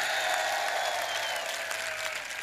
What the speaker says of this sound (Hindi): एक बार जोरदार ताली करौली प्रशासन के लिए।